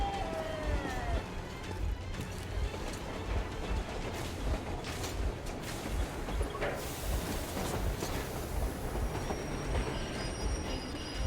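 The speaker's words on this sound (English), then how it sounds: "Throwing the brakes on so we can catch up with our other train." A train in the video game Metro Exodus brakes with a sustained metallic wheel squeal and heavy rumbling clatter, loud and continuous throughout.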